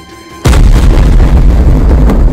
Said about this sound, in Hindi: ये देखिए ये कितना बड़ा धमाका हुआ